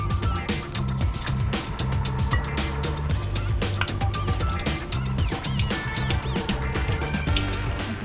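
Spoonfuls of sweet potato and prawn fritter batter sizzle and bubble steadily in hot oil, a close, continuous crackling fry with small pops throughout.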